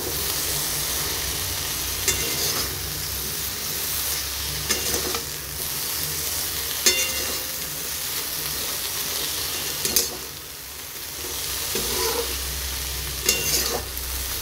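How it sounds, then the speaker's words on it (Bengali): Green chili and mustard paste stirred in a hot frying pan, a steady close sizzle broken by repeated scraping strokes and soft knocks of the spoon against the pan. "এবার সবগুলো একসাথে মিক্স করে নিচ্ছি।"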